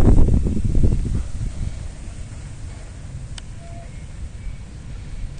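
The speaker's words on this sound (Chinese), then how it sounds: "它那个瞬间的强阵风哈， 非常强。" Strong gusts of wind near the sea at a bridge construction site buffet the microphone in heavy low rumbling bursts during the first second, then ease to a softer, uneven rumble.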